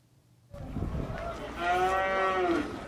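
Cattle moo loudly and close at a busy livestock market in the country's north, long drawn-out lowing calls starting after a brief near-silent moment and overlapping one another.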